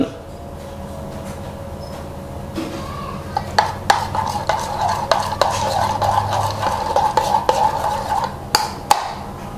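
Colored dessert dough for Thai khanom luem kluen being stirred and mixed while still hot, with steady scraping and clicking of utensil against a pot, growing busier and more rhythmic in the second half.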